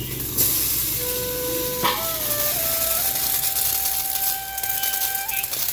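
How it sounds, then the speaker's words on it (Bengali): Flat beans with potato frying in a pan for a bottle gourd leaf dish, a loud steady hiss of sizzling oil close by, with a few whistling tones running through it. "ভেজে নিব এখন চিম।"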